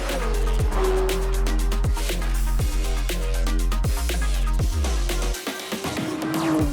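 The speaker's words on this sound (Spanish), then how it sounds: "la potencia de este motor V8 que estira hasta lo indecible" A McLaren 750S sports car with a V8 engine drives hard, its loud, continuous engine roar climbing and dropping through gear changes with sharp repeated shift cracks, briefly easing near the end before pulling again.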